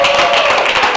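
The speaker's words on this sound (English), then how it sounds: "Clap for yourself, everybody, please." Church gala night audience claps together, a dense close burst of hand claps filling the short moment, with a faint voice underneath.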